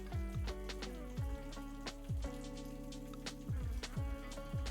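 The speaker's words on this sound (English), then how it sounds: "that rain is coming down so hard outside now" Heavy rain drums steadily in the background of a Football Manager 2024 session, a dense continuous patter lying under low game music and tones, with no one speaking.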